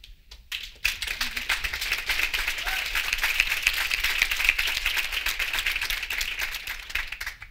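Sustained audience applause at a conference session on single-subject news sites fills the room, a dense steady patter of many hands clapping after a brief quiet start, fairly close and continuous throughout.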